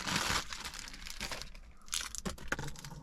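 A plastic packet holding a car reversing camera crinkles and crunches as it is handled during unboxing of an Android head unit for a Peugeot 308 SW, with a loud burst at the start and softer rustles after.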